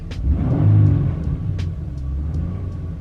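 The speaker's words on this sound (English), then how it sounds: "I'll kind of rev the engine if you guys can hear it." A pickup truck engine rumbles close by, swelling in a rev then settling to a steady idle, with faint clicks over it.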